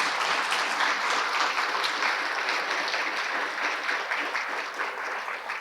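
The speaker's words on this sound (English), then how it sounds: "Can we get another round of applause for Jessica?" A round of applause from a conference audience for Jessica, a dense, steady wash of many hands clapping that fades slightly toward the end.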